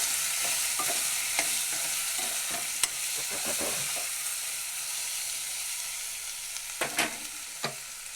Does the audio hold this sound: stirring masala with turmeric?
yes